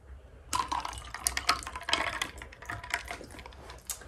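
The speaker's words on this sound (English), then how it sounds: "I fill the rest up with water." Water splashes and trickles in uneven bursts, close and fairly quiet, with small clinks scattered through the pour.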